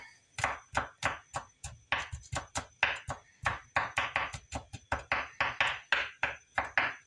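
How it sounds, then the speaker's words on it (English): A kitchen knife chops through crushed garlic on a cutting board in a quick, steady run of about twenty close, crisp taps, each a sharp knock against the board. "I'm just going to run the knife through it just a little bit."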